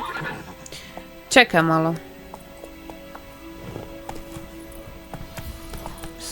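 Roach the horse in The Witcher 3: Wild Hunt gives one loud, close whinny that rises and then trails off. Game music and ambience run underneath, muffled hoofbeats follow, and someone speaks briefly.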